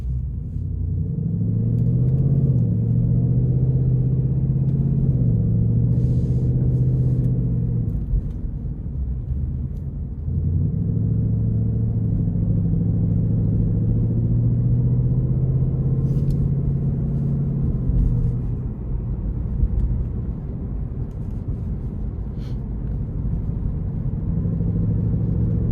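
A 2026 Ford Mustang GT Premium driving through the city: a low, steady engine drone with road rumble from inside the cabin, rising and easing twice, with no voices.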